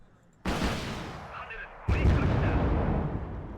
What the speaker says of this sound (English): Let's just start strafing these areas on the ground